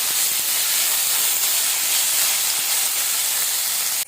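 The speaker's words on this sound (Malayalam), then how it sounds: "2 വറ്റൽ മുളകിൻ്റെ കഷ്ണം കൂടി ഇട്ട് കൊടുത്ത് നമുക്കൊന്ന് ഫ്രൈ ആക്കാം" Dry red chilli pieces fry with cooked horse gram and curry leaves in a pan, giving a steady, loud sizzling hiss that runs unbroken throughout with no talking.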